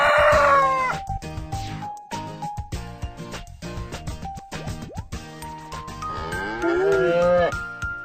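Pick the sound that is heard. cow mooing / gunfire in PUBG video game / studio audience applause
cow mooing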